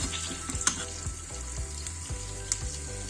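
Tomato paste sizzling in a spoonful of butter in a frying pan, a steady close crackle with a few louder pops and soft stirring scrapes, no talking.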